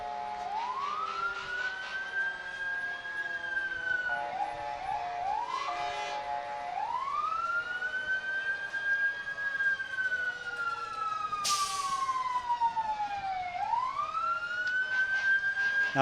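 Stoneham Engine 2, a fire engine in a Fourth of July parade in Wakefield, sounds its siren in long rising-and-falling wails that repeat steadily, loud and close, with a short blast of an air horn partway through and no talk.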